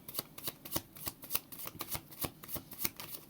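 Cards being shuffled in quick riffling bursts, a steady rhythm of crisp fluttering snaps close up, with no voices.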